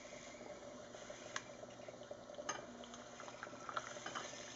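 Hot water poured from a kettle into a mug of freshly brewed Moka pot coffee, a steady close liquid stream with faint splashes and bubbling for a few seconds, no voices.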